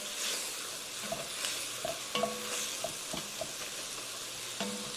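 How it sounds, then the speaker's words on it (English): Chili being stirred in a sizzling pot, with a steady frying hiss under scattered scrapes and knocks of a spoon against the pot, heard close with no talk. "we'll stir this periodically for up to 5 minutes"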